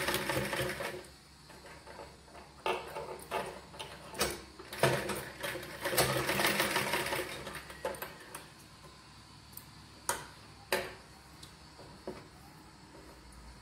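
A home sewing machine stitches a girl's frock in rapid mechanical bursts, its needle clatter rising and falling with short pauses and sharp clicks between runs, close and alone.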